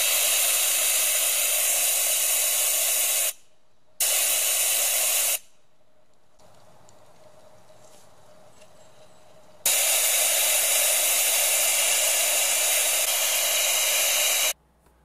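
Homemade rotorless turbojet without inlet cone or vanes on a test run, a loud steady roaring hiss in long bursts that cut out abruptly, with quieter gaps between runs.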